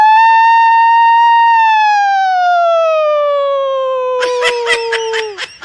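A man imitates an ambulance siren with his voice, holding a long, pure wailing tone that slowly slides downward, then breaks into a quick rhythmic warble at the end.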